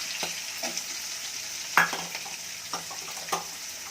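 Onion pieces fry in a pan with a soft, steady sizzle, broken by several sharp scraping clicks as a utensil stirs them. The sound is close and fairly quiet.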